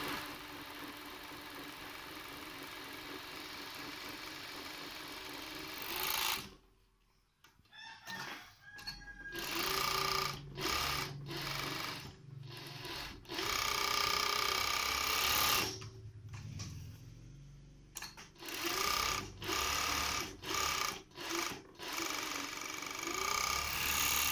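Sewing machine stitching the back neck facing of a gamis, running in long loud continuous bursts broken by short pauses and stop-start stitching, with a rooster crowing and clucking faintly in the background.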